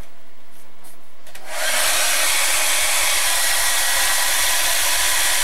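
A hair dryer kicks on after a second or so of faint low hum and then roars steadily and loudly up close, drying a freshly worked art journal page, with no speech over it.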